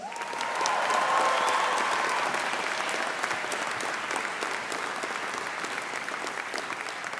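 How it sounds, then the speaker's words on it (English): A large audience at a university graduation ceremony in Birmingham's Symphony Hall applauds families and friends, a steady, dense wash of clapping that swells then holds evenly throughout. "So let's have a huge round of applause for families and friends."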